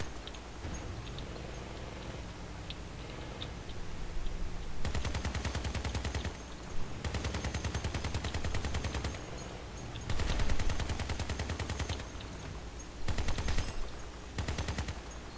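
Gatling gun firing in the vehicle combat game Crossout, loud rapid sustained bursts of several seconds each separated by short gaps, over a constant engine-like drone.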